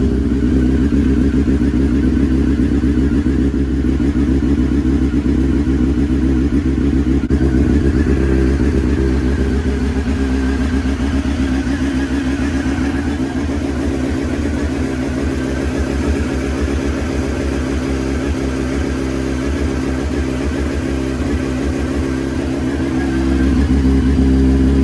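A Honda CBR 954 RR sport motorcycle engine runs steadily at idle nearby, a loud continuous low throb with slight wavering in pitch and no talking.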